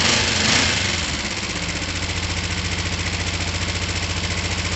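A Gilera DNA 50cc two-stroke scooter engine catches and settles into a steady, rapid idle, running loud and close with a buzzy, even pulse and no talking.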